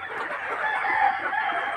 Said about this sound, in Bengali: এগুলো এখন দেখতে প্রায় অরিজিনাল দেশি মুরগির মতোই হয়েছে